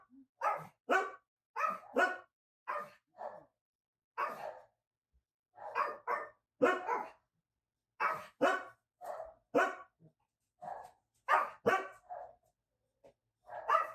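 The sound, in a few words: dogs barking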